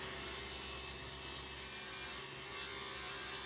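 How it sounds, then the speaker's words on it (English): A table saw on a crosscut sled hums steadily at low volume while cutting reclaimed wood, a continuous even drone with no pauses. "I used my crosscut sled to cut these to the final dimension."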